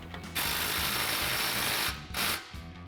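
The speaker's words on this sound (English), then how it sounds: "we can now tighten up using our 14mm socket" Ratchet wrench fitted with a 14mm socket tightening an exhaust clamp on a GMC Sierra 1500 dual exhaust install, a rapid close mechanical clicking in two quick runs.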